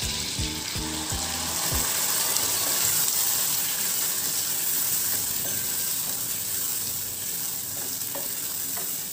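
Slit green chillies and sifted spice masala sauté in a pan with a steady sizzle, as a spoon scrapes and clicks against the metal in a quick rhythm at the start, then the frying hiss carries on alone.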